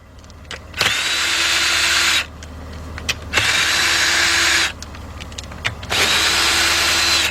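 A power tool removes a wheel from a 2002 Mercury Sable during brake work, sounding as three loud, close whirring bursts, each lasting one to two seconds, with brief quieter gaps between them.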